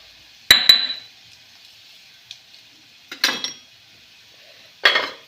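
Red chilli, turmeric and salt going into a cooking pot, heard as a few sharp metallic clinks of spoon against vessel spaced by quiet gaps, with a faint sizzle.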